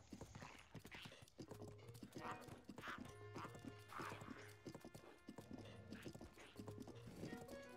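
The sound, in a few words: horse hooves and whinny, video game Breath of the Wild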